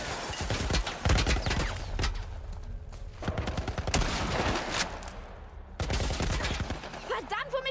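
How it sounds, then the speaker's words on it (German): A defense turret in The Last of Us Part 1 fires dense, sustained bursts of rapid gunshots with brief pauses, loud and close. "Verdammt, womit schießen die da auf uns? Das ist eine Art Schutzturm."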